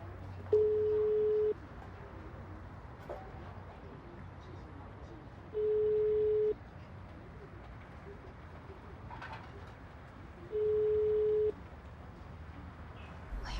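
A telephone signal beeps three times at even intervals of about five seconds, each tone a steady one-second pitch, over a quiet room background with faint voices, as an unanswered call keeps ringing.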